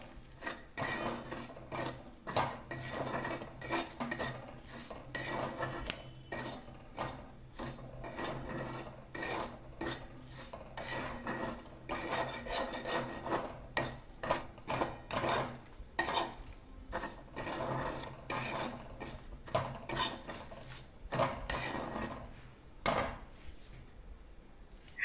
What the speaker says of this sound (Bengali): সুজিটা ভালো করে ভেজে নিতে হবে।